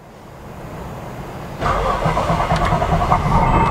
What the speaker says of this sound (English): Engine fires up.